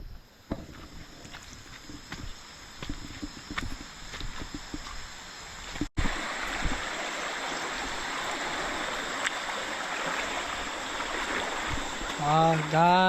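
Steady rushing water of a large jungle river flowing nearby, with footsteps and splashing through it, ending with a brief high chirping sound.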